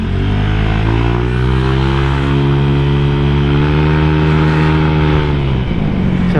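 A Honda Vario scooter engine revving loudly up close, holding a high, strained whine with stable harmonics for several seconds before easing off near the end, with no voices.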